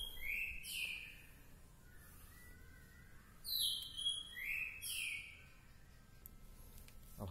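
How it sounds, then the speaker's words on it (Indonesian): A white-rumped shama (murai batu) sings nearby, giving bright, quick whistled phrases in a few bursts with short pauses between them over quiet background hiss. "burung saya lagi bunyi murai batu."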